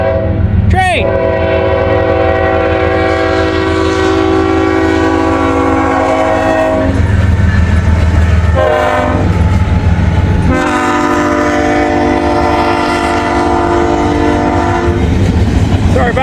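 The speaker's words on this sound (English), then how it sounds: "And look what we got coming. Train." A freight train passes through Fort Gay, West Virginia, sounding long loud horn blasts in several bursts over the heavy rumble and clatter of rolling cars, close and dominant.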